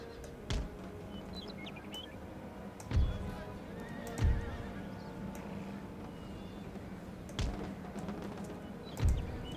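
Horses neigh and hooves clatter on a battlefield in the video game Empire: Total War, with faint whinnies under a low ambient din and occasional louder thuds at intervals.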